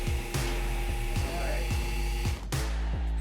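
Vinyl record vacuum forming machine with its 3,000 watt heater running, a loud steady electric hum punctuated by a series of regular low thumps and clicks repeating roughly every half second.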